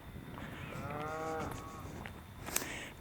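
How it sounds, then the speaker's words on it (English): A cow on a farm in Breitnau lets out a single drawn-out moo at moderate distance, with faint ambient outdoor noise and a brief sharp click near the end. "More cows."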